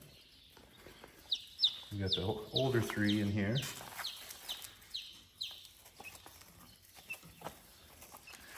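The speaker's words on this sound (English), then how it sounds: "So as you can see, we got the chicks set up. The new chicks in there." Newly arrived chicks peep in their pen on a farm, with thin, high chirps repeating through the clip under a person talking nearby.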